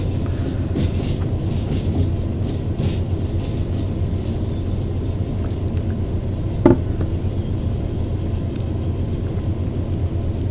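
A train in the Derail Valley game rolls along the rails with a steady low rumble and a faint rhythmic clatter, plus one brief metallic clank midway, with no voices.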